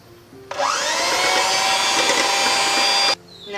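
An electric hand beater whirs loudly for about two and a half seconds, mixing a tender coconut ice cream base with powdered sugar, starting abruptly and stopping cleanly with a slight pitch rise as it spins up.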